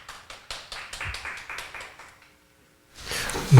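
An audience at a panel discussion on COVID-19 claps to welcome a speaker: a brief round of steady, rhythmic applause that fades to silence, followed by a louder noise near the end.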